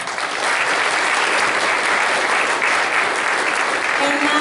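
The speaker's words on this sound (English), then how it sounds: "I would like you to join me in a round of applause in a warm welcome to Mr. Pereira." Loud, steady applause from an audience at a University at Albany, State University of New York event welcoming a speaker, a dense continuous wash of clapping heard alone.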